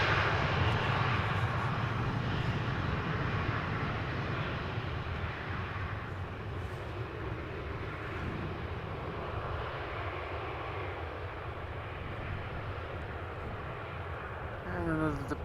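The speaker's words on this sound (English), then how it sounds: "And another departure from runway 24. Schiphol, by the looks of it." An airliner departing from runway 24 at Amsterdam Schiphol Airport roars at a distance, a broad, steady rumbling engine drone that swells slightly and holds throughout, with faint voices talking underneath.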